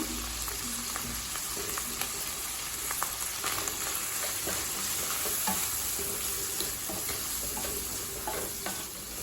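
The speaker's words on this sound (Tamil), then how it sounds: "பொடி சேர்த்துட்டு லேசா வதக்கினா போதுங்க." Ground spice powder and pepper fry for chana rice with a continuous soft sizzle and crackle in a pan, fairly quiet, with occasional faint stirring ticks and no talking.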